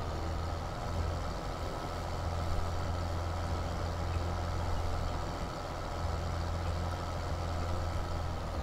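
A vehicle engine drives across a field in Landwirtschafts Simulator 17, a steady broadband rumble and drone with no clear breaks, fairly loud and continuous.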